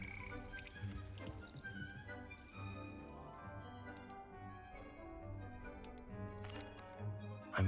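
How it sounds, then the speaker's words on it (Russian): Frogs croak in a Hogwarts Legacy game scene, a dense chorus of repeated low croaks pulsing rhythmically with scattered ticking calls over a soft ambient bed, moderately distant and fairly quiet. "Лягушки."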